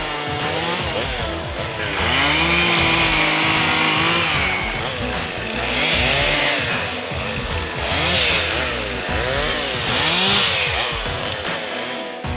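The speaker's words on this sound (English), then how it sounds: "grab some chainsaws and start cutting" Chainsaws cut trees on a hunting property, engines revving loud and close in repeated rising bursts that settle back to a rough idle between cuts.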